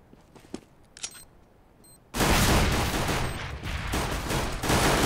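Dense automatic gunfire from a Counter-Strike match on the de_cache map, a sustained loud fusillade of rapid shots that bursts in after two seconds of faint, sparse clicks and distant pops.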